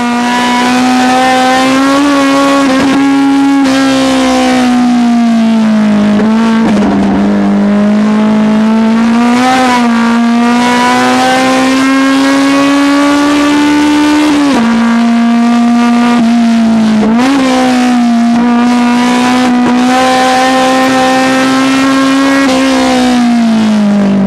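Honda race cars scream through the final turns of a race at Mid-Ohio, one loud engine held close, its pitch dipping on lifts and climbing again through the gears for the whole stretch.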